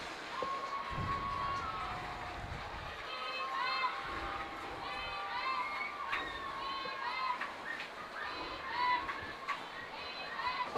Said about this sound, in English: Hear chants going in the crowd.